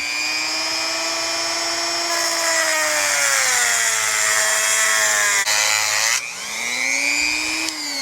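A power cutting tool grinds through parts of a rusty GM 12 bolt rear axle from a 1968 C10, a loud, high whining tone that dips in pitch under load, briefly stops, then spins back up.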